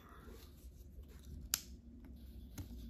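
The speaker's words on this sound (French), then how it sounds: "Je vais en couper un petit bout." Scissors make a couple of quiet, sharp snips cutting off a small piece of material while a cross-stitch kit is unboxed indoors. The snips are brief and isolated against a soft background.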